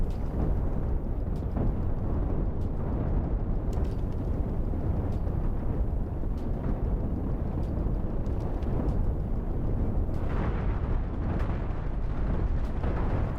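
Deck cannons on a ship in the space game Cosmoteer fire in a dense, continuous barrage of booming blasts that merge into a loud, rumbling roar throughout.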